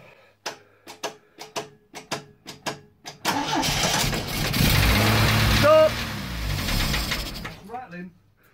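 A 1982 Triumph TR7 engine with choke on cranks in a rapid series of sharp turnover bursts, then catches and runs roughly at a loud idle, revving briefly before settling, heard close and alone.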